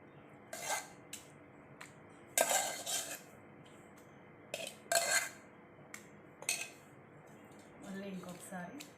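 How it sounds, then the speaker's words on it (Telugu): Green chillies and gongura leaves are pounded in a mortar in separate bursts of dull thuds and scraping clinks with quiet gaps between them, and a voice speaks briefly near the end. "మళ్ళీ ఇంకొకసారి దంచుకోవాలి."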